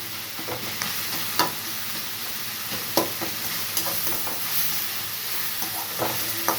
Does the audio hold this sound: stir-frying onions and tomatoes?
yes